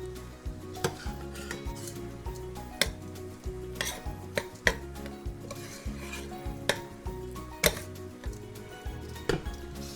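A spoon stirring taco seasoning mix into a pot of bean soup, steady scraping and knocking against the pot with regular clinks, under a low steady hum, no talking.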